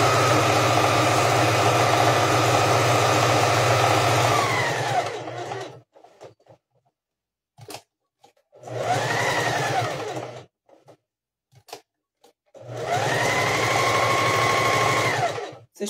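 Sewing machine running a safety seam around a panettone cover, three separate sustained humming runs of a few seconds each with the motor winding up and down, broken by quiet gaps with small handling clicks.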